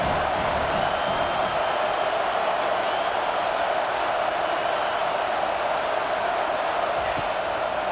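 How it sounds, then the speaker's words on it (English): A stadium crowd in the EA Sports College Football 25 video game roars for the defense on third down, a dense, steady wall of cheering that stays loud and unbroken throughout. "Decibels rising as the crowd gets behind this defense on 3rd down."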